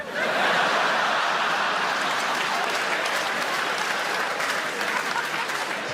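Theatre audience at a Frankie Boyle stand-up show at the Hackney Empire, London, bursts into loud, sustained applause mixed with laughter, a dense roar of clapping that holds steady for several seconds before thinning slightly.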